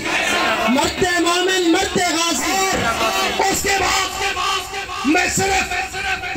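A crowd at a religious scholars' convention in a marriage hall shouts a loud, rhythmic chant in unison, repeated voiced bursts close and forceful.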